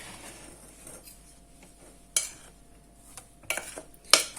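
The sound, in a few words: mixing lemon cake batter in a bowl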